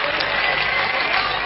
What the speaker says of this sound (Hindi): हाँ इसके सम्मान में तालियां बजाते हैं